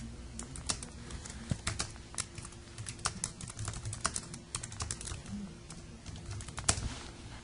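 Computer keyboard typing while entering a change order for window supply in construction management software: steady, close clicking keystrokes with uneven rhythm, no talking.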